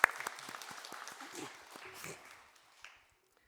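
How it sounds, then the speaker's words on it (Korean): Congregation applause at a Sunday church service, faint and fairly distant, with scattered clapping over a few seconds, a brief murmur of voices, then dying away to silence. "큰 박수, 축복의 박수 부탁드리겠습니다."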